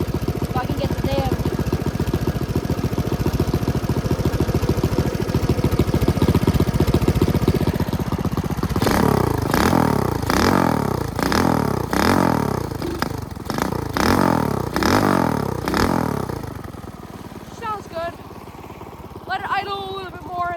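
A modified 212 small engine runs after an air-fuel mixture adjustment: a close, steady chugging idle, then a burst of repeated rev blips, then a calmer idle again.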